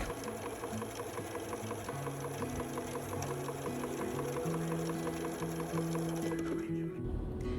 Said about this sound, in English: taking that to the sewing machine and putting some trusty 1/4 inch seams in that fabric.